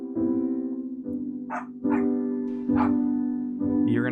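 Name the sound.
dog barking in another room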